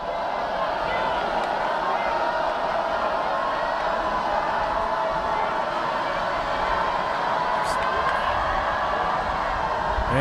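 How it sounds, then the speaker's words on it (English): A loud, steady roar from the crowd at a high school football game between Gross Catholic and Beatrice, a dense wash of voices that holds for the whole stretch at a constant level. "And this crowd is loud."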